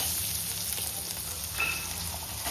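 Garlic, ginger and Kashmiri chillies fry in a pan for butter chicken, giving a steady, close hiss and crackle of sizzling oil throughout with no talking.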